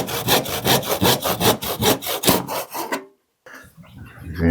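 Rhythmic back-and-forth strokes of a hand saw cutting wooden trim at a 45-degree angle, about a dozen rasping strokes close up, followed by a brief silence and a few softer scraping sounds.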